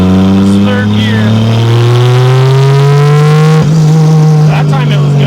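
A turbocharged 2JZ engine in a swapped MK3 Toyota Supra accelerates hard in third gear, a loud, close roar rising steadily in pitch, then briefly dipping at a shift before climbing again; a voice speaks over it.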